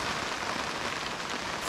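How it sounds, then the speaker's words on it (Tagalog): Heavy rain pours down in stormy weather, a dense, steady roar of drops hitting surfaces that stays loud and close throughout, with no voices over it. "Lakas ang ulan oh."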